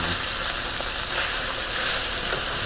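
Chicken legs coated in Indian masala sizzle in a hot pan, a steady, dense, close frying hiss that runs without pause and with no talk over it.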